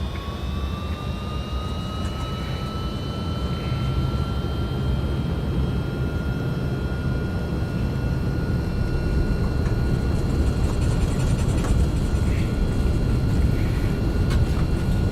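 Jet engines of an MD-11F freighter spooling at takeoff power in the X-Plane 12 flight simulator, a loud continuous roar with rising whining tones held steady throughout, no voices.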